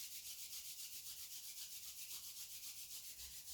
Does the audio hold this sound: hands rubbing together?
yes